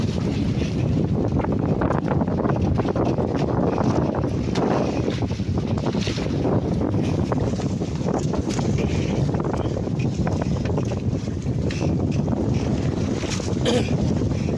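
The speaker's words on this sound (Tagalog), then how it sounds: "Biglang lumakas ang hangin" Strong wind roars steadily across an open microphone at sea on a crab-fishing boat, with broadband rushing and buffeting throughout, boat and water noise mixed underneath.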